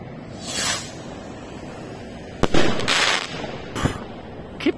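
Powerful legal firework rockets whoosh skyward and burst outdoors, with a rising hiss followed by several sharp cracks and crackling explosions spread over a few seconds.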